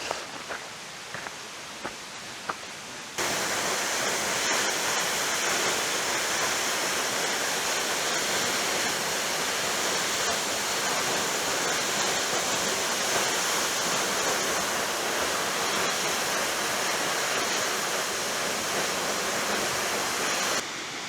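A waterfall in the Fratarica gorge roars with a dense, constant rush of falling water, loud and close, after a few seconds of quieter footsteps and stream noise.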